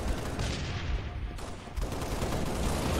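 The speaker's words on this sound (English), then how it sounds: "There's someone shooting at you." Bursts of rapid gunfire in the video game Halo Reach crackle loud and continuous, dipping briefly midway before resuming.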